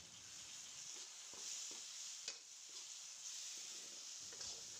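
Ground mustard paste fries in oil with tomatoes while making a Rupchanda fish curry, a faint steady sizzle with soft periodic stirring scrapes and no voices.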